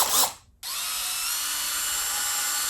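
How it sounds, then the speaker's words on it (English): A power drill bites into a Yamaha WR250R motorcycle subframe to mount a Tusk cargo fender rack, a short burst, a brief pause, then a steady loud whir. "Now I've got to drill some holes and mount the rack to the subframe."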